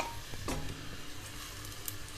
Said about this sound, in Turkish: Soğanlarımızı tenceremize ilave ediyoruz. Pembeleşinceye kadar bir müddet kavuruyoruz.